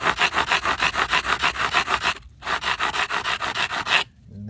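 A flat-edged rock rubs back and forth on natural flagstone in quick, even scraping strokes, a gritty rasping rhythm close by that pauses briefly midway and then resumes.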